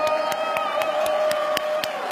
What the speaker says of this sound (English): I just want to give a big round of applause to the father and founder of Rainbow Puerto Rico, Victor Peralta